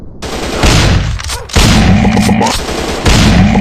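Dense, loud bursts of automatic gunfire in Counter-Strike, rapid rattling volleys that pause briefly and resume, close and overwhelming.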